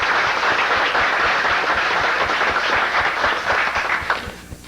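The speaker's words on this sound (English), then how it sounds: "let's all give them a round of applause" A round of applause at a city council meeting, a steady patter of many hands clapping that holds evenly and then tapers off into a few last claps at the end.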